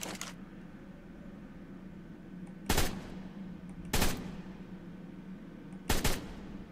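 Three sharp gunshots go off in the video game Ark, spaced a second or two apart, each a loud crack with a short tail over a quiet, steady background hum.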